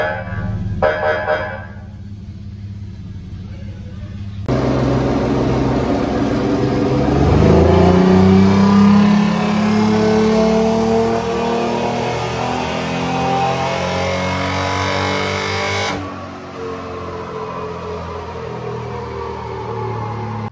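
McNeil Class 7 three-wheeler engine being revved during troubleshooting and tuning, loud and close, climbing in pitch and holding a strained high rev for several seconds before dropping back to a lower idle.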